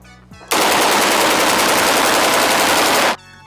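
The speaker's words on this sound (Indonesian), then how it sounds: "ini senjata M16" A toy M16 rifle lets out one continuous, loud burst of rapid electronic gunfire lasting about two and a half seconds, then stops abruptly.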